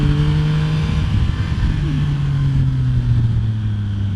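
A 2026 Yamaha MT-09 naked motorcycle engine drones loudly and steadily while riding on tight roads, its pitch easing slowly downward across a few seconds.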